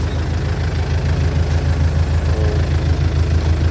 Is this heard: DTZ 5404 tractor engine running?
yes